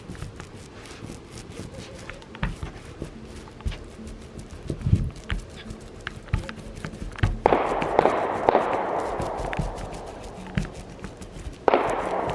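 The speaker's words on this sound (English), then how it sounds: "those are gunshots that you're hearing in the background" Gunshots crack in the distance out in the countryside, several sharp reports scattered irregularly over ambient outdoor noise, with a denser noisy stretch partway through.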